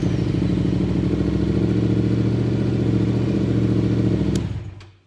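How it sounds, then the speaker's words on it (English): A Yamaha Tenere motorcycle engine idling close up with a steady, throbbing mid-low drone and mechanical clatter, running evenly for about four seconds before being shut off, a brief click, then fading to silence. "now the bike runs"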